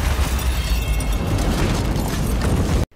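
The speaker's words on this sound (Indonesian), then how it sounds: "Pada saat Marelli pergi, bom pun meledak." A loud, sustained blast roars with heavy low rumble and debris noise for nearly three seconds, then cuts off abruptly.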